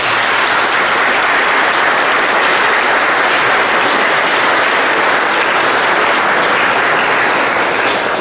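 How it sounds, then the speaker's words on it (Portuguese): A church congregation at the parish of São Pedro Apóstolo in Monte Castelo breaks into a long, dense round of applause that stays loud and steady throughout, with no voices on top. "saudando esse Ministério e os seus familiares e todos aqueles que acompanharam o Ministério que vem do Monte Castelo com uma grande salva de palmas"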